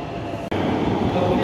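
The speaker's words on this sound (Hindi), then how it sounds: "दूसरी तरफ जाने वाली मेट्रो आ गई है" A Kanpur Metro train pulls into the station with a low, steady rumble and a brief dip in the noise, with a faint murmur of voices around it.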